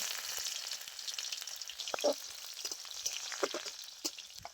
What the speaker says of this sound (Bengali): পেঁয়াজটা খুব ভালো করে ভেজে নিয়েছি